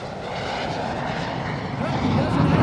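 A North American F-86 Sabre jet passes during an air show display with its speed brakes out, a broad roaring rush that swells louder toward the end, with a voice in the background.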